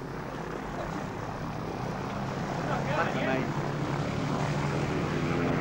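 A propeller plane drones steadily overhead in northern Australia, a loud continuous engine roar that swells slightly partway through and carries on without any talking.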